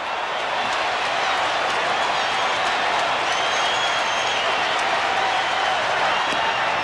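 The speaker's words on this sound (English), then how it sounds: "Crowd really reacting. They really come to life." A baseball stadium crowd at the 1978 World Series between the Yankees and Dodgers roars and applauds in a steady, dense wash of cheering that holds at full volume throughout.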